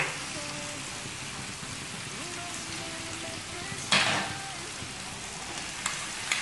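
Chopped tomatoes fry with boneless chicken in a tawa-style pan, a continuous soft sizzle with a sudden louder hiss partway through as the ingredients are stirred in.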